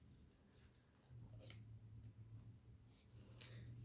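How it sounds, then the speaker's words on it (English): Scissors cut a paper strip from a seed packet while crafting with scraps and recycled Christmas cards, giving several quick snips and clicks over a low steady hum, fairly faint and close. "Use your scissors."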